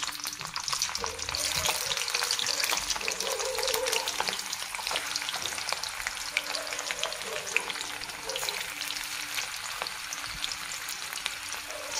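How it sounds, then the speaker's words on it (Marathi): Paneer cubes fry in hot oil for palak paneer, a continuous close, even sizzle and crackle of bubbling oil with no one talking. "तेलामध्ये थोडं पनीर आपण तळून घेऊ।"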